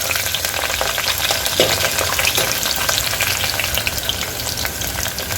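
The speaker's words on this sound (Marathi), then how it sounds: "आता याला हलकस ब्राऊन करून घ्यायचं आहे" Sliced onion frying with cumin and bay leaf in hot oil, a dense continuous sizzle with occasional stirring clicks, close and fairly loud, no talk.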